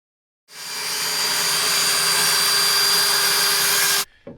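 A power saw rips through a sheet of plywood being cut for outhouse flooring, a loud steady whine running about three and a half seconds alone before cutting off abruptly with a brief wind-down.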